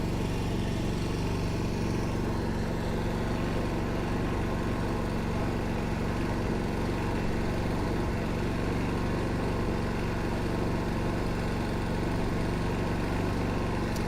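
A Predator 4550 inverter generator runs steadily about 25 feet away with its exhaust facing the listener, a constant, even engine drone and hum with no change in pitch or level.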